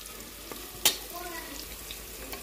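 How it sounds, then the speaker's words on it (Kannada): Onions and kasuri methi frying in hot oil, a steady close sizzle with one sharp clack of a spoon against the pan and a few light stirring scrapes. "ಕಸೂರಿ ಮೆಂತೆ ಹಾಕ್ಯಂದ್ರೆ ಸ್ವಲ್ಪ ಅದು ಎಣ್ಣೆ ಫ್ರೈ ಆಗಲಿರಿ"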